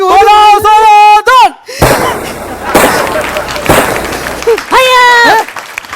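Loud ceremonial gun salute bangs burst out a few times, with shouting voices before and after.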